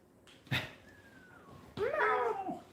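A little kitten gives two distinct meows, a short one and then a longer, wavering cry, close and faint, with quiet room background between them.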